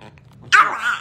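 A single sharp dog bark, close and loud, after a brief quiet moment.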